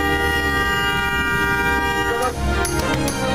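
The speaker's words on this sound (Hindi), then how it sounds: "गाड़ियां खड़ी करके और हॉर्न बजाकर एहतजाज" Vehicle horns blare in a Karachi street protest against petrol price rises, long sustained honks layered together with a few sharper toots near the end, loud and close over street noise.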